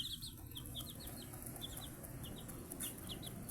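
Chicks about a week old peep in a rapid run of short high calls alongside their mother hen, close by over a steady low rustling background with no talking.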